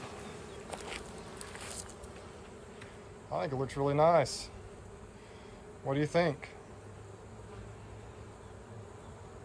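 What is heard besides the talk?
honey bees buzzing at hive entrance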